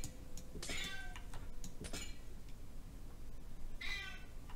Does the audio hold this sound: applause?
no